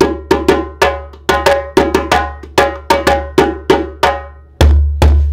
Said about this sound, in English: I'd say this djembe is got a nice tune on it.